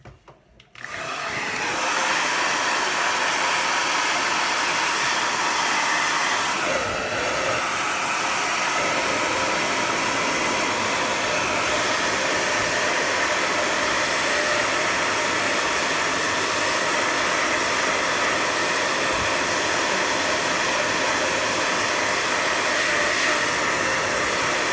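A hair dryer blows hot air to dry paint on a realistic fried-egg painting piece, a steady loud whoosh that starts abruptly and runs unbroken the whole time.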